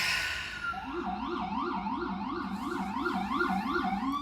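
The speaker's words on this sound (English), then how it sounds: "send love to wherever that ambulance is going" An ambulance siren wails in a steady up-and-down warbling cycle, fairly loud and clear and holding steady rather than fading, with no voices over it.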